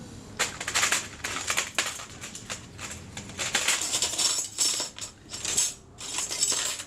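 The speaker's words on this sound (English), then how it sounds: "I'm going to put the chrome trim on the base plate now" Chrome trim is fitted onto the base plate of a Kodak Retinette type 022 camera, giving close, irregular metallic clicks, taps and scraping clatters in quick clusters with brief pauses, no voices.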